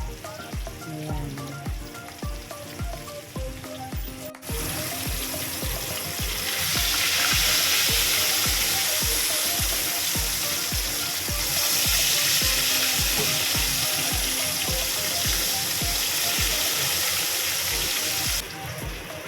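Pork sizzles and fries in a kawali for pork bihon guisado, a loud steady crackle close by that swells after a few seconds of quieter cooking noise and carries on without talk.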